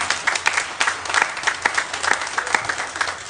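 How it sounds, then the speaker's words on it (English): Church congregation clapping for its youth and children on a Sunday service, dense rhythmic applause with sharp individual claps, loud and close, filling the whole moment without talk. "Let's give them a round of applause."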